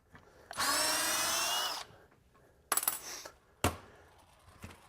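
A SKIL 12V flip drill drives a long deck screw with one loud, sustained whirring burst lasting just over a second, followed by two short, sharp bursts of power-tool noise and quieter handling sounds.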